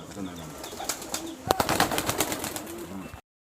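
A pair of Rajshahi Giribaz pigeons coo softly up close amid rustling and handling noise, with a sharp knock partway through.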